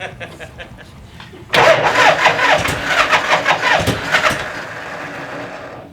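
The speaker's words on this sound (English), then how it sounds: "Starter makes some noise though, doesn't it? It sounds a little rough." A vintage Harley-Davidson Shovelhead motorcycle's starter kicks in abruptly and cranks roughly in close, loud, uneven pulses for several seconds before easing off.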